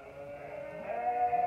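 Hungry ewes in a frosty lambing pen bleat insistently, a few overlapping calls rising into one long, loud, wavering bleat close by.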